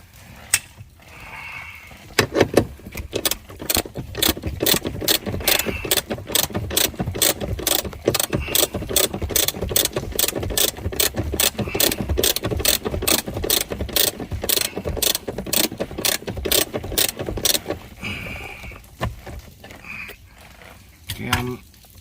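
A ratchet undoes a bolt on the steering column of a Mercedes W210 with a tilt steering issue, a long run of loud, evenly spaced clicks close by, with brief fumbling before and after.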